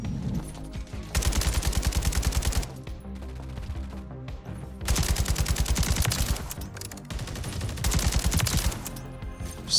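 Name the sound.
unsuppressed Kastov 762 gunfire in Modern Warfare III video game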